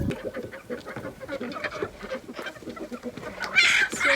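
Backyard hens cluck repeatedly at close range, short irregular clucks with a few louder calls near the end and no one speaking.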